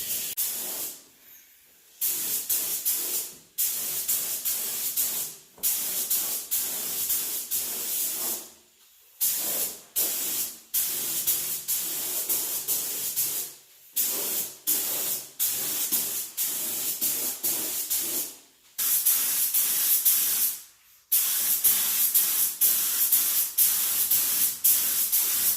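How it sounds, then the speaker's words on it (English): Spray painting car wheels for an R34 Nissan Skyline GT-R conversion, long continuous hissing bursts from a spray gun with short silent gaps between passes, loud and steady, no talking. "So whilst Dan's spraying the wheels"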